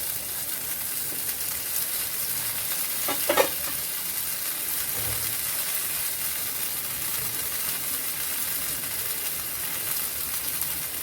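Jackfruit tikka frying in oil on a flat tawa, a steady bright sizzle running throughout with a brief scrape or clatter partway through, no talking.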